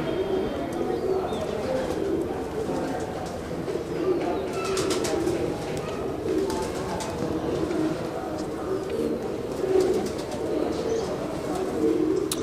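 Pigeons kept by fanciers on a rooftop coo in repeated soft rolling calls, with occasional chirps and a faint flutter, over a steady low background; voices murmur faintly at times.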